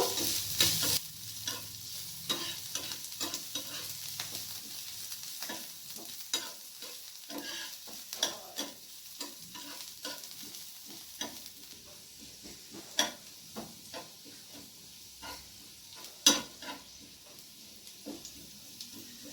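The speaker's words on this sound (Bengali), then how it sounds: "তার সাথে স্লাইস করে কেটে রাখা আদা দিলাম আর চেরা কাঁচা লঙ্কা দিলাম। এরপর এগুলোকে হালকা করে ভেজে নেব।" Sliced ginger and slit green chillies frying lightly in ghee, a low steady sizzle broken by many sharp spoon taps and scrapes against the pan, close and without voices.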